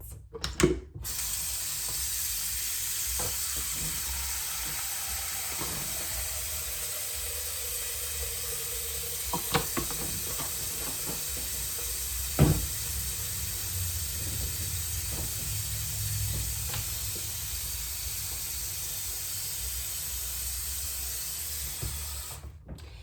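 Tap water running steadily over a leather purse, a continuous hissing splash with occasional louder drips and handling knocks, close and alone for the whole stretch.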